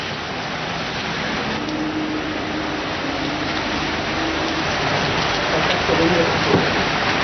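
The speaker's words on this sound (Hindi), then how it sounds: "धूल भरी आंधी चली, उसके बाद झमाझम बारिश हो गई और उसकी वजह से पारा गिरा।" Heavy rain pours steadily in Delhi after a dust storm, a dense, loud hiss that holds for several seconds and swells slightly toward the end.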